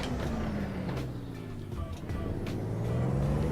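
A Kenworth W900-style KW 521 truck in American Truck Simulator pulls away in low gear, its engine droning steadily and rising slowly in pitch, loud and close with a faint beep, no talking.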